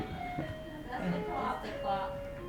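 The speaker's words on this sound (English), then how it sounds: "Oh, it's the clock." A house clock chimes with sustained, ringing tonal notes that carry under a conversation between people talking nearby.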